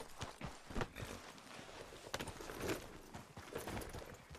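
Horse hooves clip-clopping at a walk in Red Dead Redemption 2, a faint, uneven patter of soft thuds throughout.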